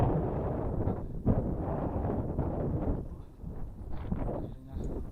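Wind gusting across a mountain trail on Mount Arjuno, a steady broadband rush that swells and dips throughout, buffeting the microphone close up with no voices.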